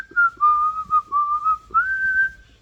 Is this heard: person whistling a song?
yes